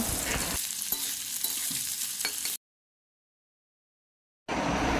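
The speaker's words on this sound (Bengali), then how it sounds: "এবার ওই একই তেলের মধ্যে আমি দিয়ে দিচ্ছি কিছুটা পেঁয়াজ কুচি আর পেঁয়াজ ম্যাশটাও আমি লাল লাল করে একদম ভাজা করে নেব" Chopped onions fry in oil in a pan, giving a bright, close sizzle with stirring scrapes that stops abruptly into a gap of silence before the sizzling resumes.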